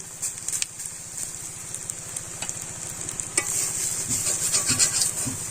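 Banana flower fritters fry in hot oil in a kadai, giving a loud, continuous close sizzle with light stirring and scraping, and a busier crackle building toward the end.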